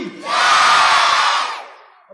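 At a Republic Day poetry recitation, a large crowd answers a call for the Indian Army with a single loud, unified shout. The shout swells quickly, holds for over a second, then fades out.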